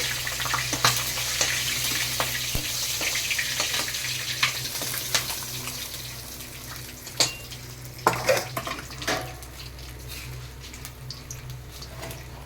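Katla fish head pieces fry in oil while being turned, giving a soft, fairly quiet sizzle under clinking stirs and scrapes of a utensil against the pan, which grow more distinct toward the end.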